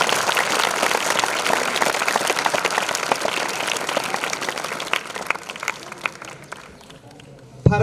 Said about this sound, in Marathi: त्यांच्याबद्दल जोरदार टाळ्यांचा कडकडाट